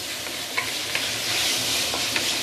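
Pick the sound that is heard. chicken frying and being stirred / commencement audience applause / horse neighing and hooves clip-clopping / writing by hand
chicken frying and being stirred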